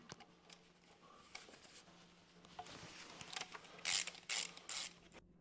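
A ratchet clicks as the protective plate under the oil pan of an AG4 01M four-speed automatic transmission is unscrewed, faint scattered clicks building to a few louder rapid ratcheting bursts near the end.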